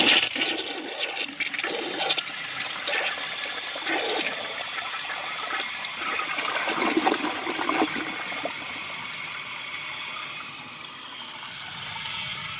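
A 2001 American Standard Cadet toilet flushes a grocery bag, a close, loud rushing swirl of water that drains and gurgles, then settles into a steady trickle as the tank refills.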